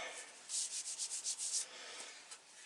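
Sandpaper rubbed by hand over the wooden stock of a muzzleloader being built, a run of about eight quick rhythmic back-and-forth rasping strokes, close and fairly soft, then a pause with one more faint stroke.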